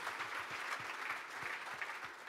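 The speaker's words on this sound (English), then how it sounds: "So a round of applause for Jim and the Toyota Grand Prix of Long Beach." Audience applause at a motorsport Q&A event in Los Angeles, honoring the promoter of the Toyota Grand Prix of Long Beach, a steady crowd of hands clapping continuously with no speech.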